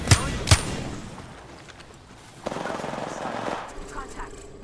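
Video game gunfire: two sharp, loud shots at the start, then a quieter spell and a longer burst of rapid fire toward the end.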